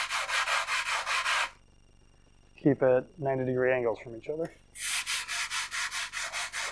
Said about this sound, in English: when you're sanding that way, put the weight up on this part of the tube